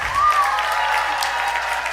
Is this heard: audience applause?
yes